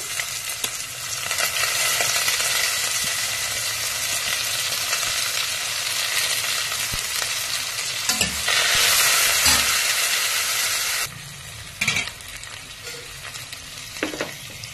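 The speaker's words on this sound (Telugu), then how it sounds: "దీనిలో కట్ చేసుకున్న ఆనియన్ వేస్తున్నాను" Chopped onion sizzles steadily in a hot pan for mutton and potato curry, with occasional stirring scrapes and no talking.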